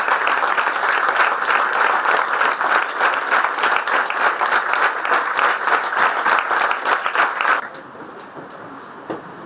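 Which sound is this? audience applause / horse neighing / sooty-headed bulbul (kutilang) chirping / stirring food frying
audience applause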